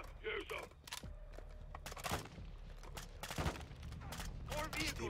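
Bursts of gunfire ring out in the Call of Duty Modern Warfare 2 campaign, with sharp repeated shots and mechanical clatter scattered across the moment, mixed under a player's voice talking.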